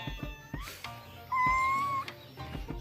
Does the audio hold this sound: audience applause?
no